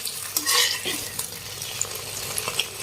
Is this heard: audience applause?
no